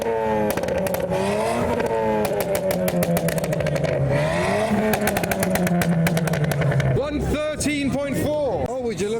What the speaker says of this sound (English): So after that Fiesta, we're gonna try another one.